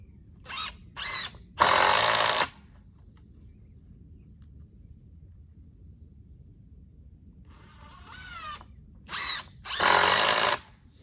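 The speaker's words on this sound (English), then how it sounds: "Put 4 screws in that side there and make sure that it does eat into this middle part of your pallet" A power drill drives screws into a wooden pallet with short whirring bursts and two longer loud runs, near, separated by quiet pauses with faint shuffling.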